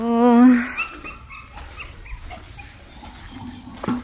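Dogs at a dog boarding house whimper with a high, drawn-out whine near the start, then give scattered softer yips and barks against background noise.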